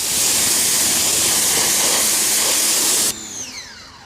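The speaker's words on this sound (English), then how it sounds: "Still a little bit more rinsing up here." Pressure-washer spray hisses steadily at close range as a C6 Corvette is rinsed, a dense continuous wash of water that cuts off abruptly near the end and leaves only faint dripping and trickling.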